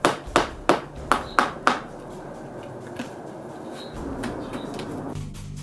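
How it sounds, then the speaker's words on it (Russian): Six sharp blows of a hammer on a chisel crack a clay crust at close range in quick succession, then stop, leaving a low rustling background with a faint tap or two. "дальше мы раскалывали глину с помощью зубила и молотка"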